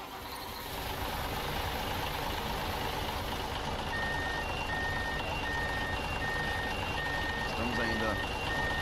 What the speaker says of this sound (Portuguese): Vamos ligar esse ônibus aqui?